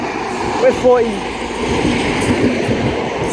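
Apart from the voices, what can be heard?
Great Western Railway train arriving at Reading station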